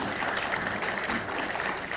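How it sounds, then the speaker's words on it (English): Congress audience in Bali claps for Professor Lawrence, a brief steady burst of clapping in a hall, moderately loud, with a hint of voices underneath. "please give a big round of applause to Professor Lawrence"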